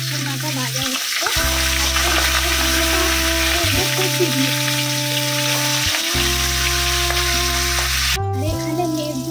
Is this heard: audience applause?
no